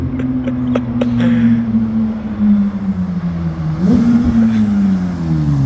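Porsche 911 GT3 of the 992 generation, its engine holding a loud, steady high drone with a slight dip and sharp re-rise near the end, close by and without talk.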